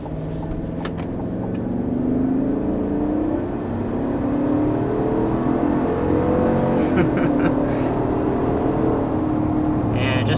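A 2021 Chevy Suburban Z71 with a 5.3-liter V8 accelerates with a steady, rising engine drone heard from inside the cabin. Brief clicks and rustles sit over the hum, and no one speaks.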